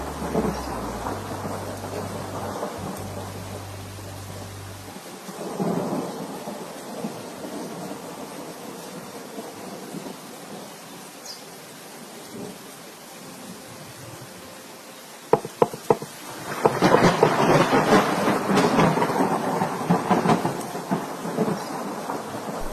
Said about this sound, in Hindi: तुम इस तेज बारिश में बाहर क्यों हो?